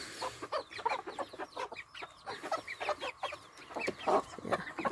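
Backyard chickens on a freezing winter morning, clucking and chattering in quick, overlapping bursts at close range with no voices.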